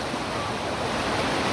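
Water pouring over a dam spillway, a steady broadband rushing roar that fills the whole short stretch without pause, fairly loud and even throughout.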